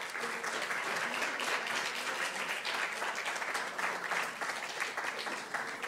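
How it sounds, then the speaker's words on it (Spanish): An audience at a debate tournament gives steady, sustained applause that stays at an even level throughout, many hands clapping together at a moderate distance. "Le damos las gracias y un fuerte aplauso al Instituto Sagrada Familia."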